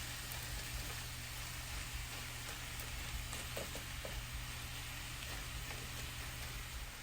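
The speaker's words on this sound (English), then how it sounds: "And now we're gonna add the eggs and we're gonna mix it in." Eggs frying and being stirred into fried rice in a hot pan, a continuous close sizzle with faint scraping stir sounds and no talking.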